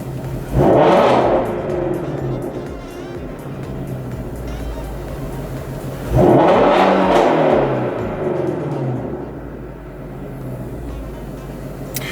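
Shelby GT350 with exhaust resonator delete, parked in sport mode with hood open, revved twice: each sharp rise to a loud roar falls back to a throbbing idle between the blips.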